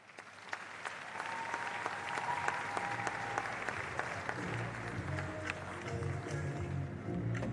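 An audience at a career fair applauds, a dense, steady wash of many hands clapping that carries on for several seconds and grows slightly fuller toward the end.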